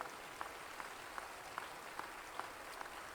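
A church congregation claps together in a steady rhythmic beat, many hands at a fairly faint distance, with accented claps recurring about every half second.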